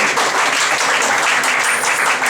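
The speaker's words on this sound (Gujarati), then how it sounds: "આપણે એમને તાળીઓથી જોરદાર વધાવીશું" An audience at a Lions Club family gathering applauds a guest, a dense, steady wash of clapping, loud and continuous for a couple of seconds with no talk over it.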